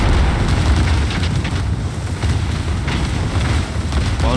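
Heavy battleship gunfire and explosions in the naval combat game World of Warships, a dense continuous barrage of booming blasts and rumbling impacts, loud and close throughout.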